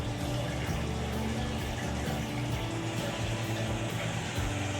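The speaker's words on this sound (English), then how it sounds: "you will listen to this sound when the water is draining." A Whirlpool washing machine draining water gives a steady, continuous pump hum with rushing water running evenly throughout, with no talking.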